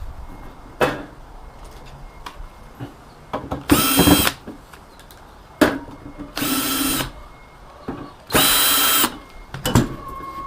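A power drill unscrews screws from a karaoke preamplifier in three loud whirring bursts of about a second each, between scattered clicks, clunks and handling knocks on the metal chassis.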